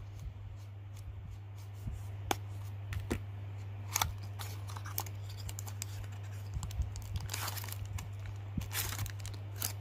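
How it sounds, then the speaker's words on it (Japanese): Tomica die-cast toy car packaging, a Nissan Fairlady Z Nismo RC model, being opened by hand: soft scattered crinkles, taps and rustles, quiet and close, over a steady low hum with no talking. "では、開封していきます。"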